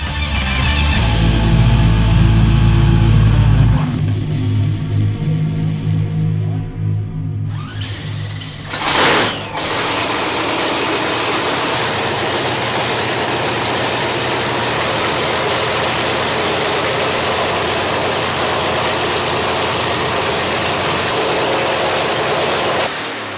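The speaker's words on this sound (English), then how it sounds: "it's time to fire up the funny car and run through everything." A drag racing funny car engine is fired up, a brief loud roar dropping away before a sharp burst, then a steady, loud, rough idle that holds for the rest of the stretch with no talk over it.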